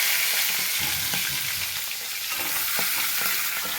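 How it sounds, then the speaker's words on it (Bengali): A large catla fish head, about two kilos, frying in hot oil, giving a loud, steady, dense sizzle throughout with occasional stirring scrapes and no talking. "তেলটা আমার গরম হয়েই গেছে। কাতলা মাছের মাথাটা আমি দিয়ে দেবো।"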